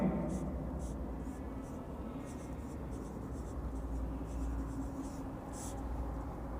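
Chalk taps and scrapes on a board during an algebra lecture, short faint bursts of writing strokes over a quiet room hum.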